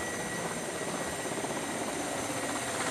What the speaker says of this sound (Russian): Вертолет вон он прилетел.